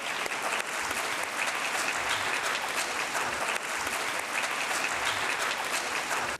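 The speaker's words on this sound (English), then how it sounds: "Please give them a round of applause." Dense, even applause fills a conference hall as speakers are welcomed onto the stage, a loud continuous roar of many clapping hands that holds steady without a break and with no voices on top.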